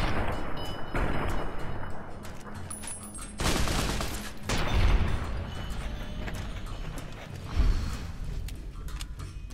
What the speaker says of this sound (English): This all-American gun is pretty lame.